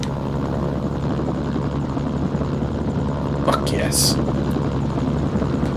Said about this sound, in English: Free helicopter!